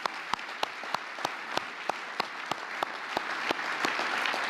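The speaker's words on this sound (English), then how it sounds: "Let's give her a big round of applause as well, Deb." An audience at a drug-free kids awards dinner claps for a military family, a steady patter of many hands with sharp individual claps standing out near the microphone, continuing without voices.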